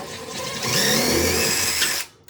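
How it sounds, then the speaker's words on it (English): A power drill with a small bit whines steadily at close range for about two seconds while drilling into a wall, then cuts off, leaving near silence. "So you want to go with a fairly small drill bit"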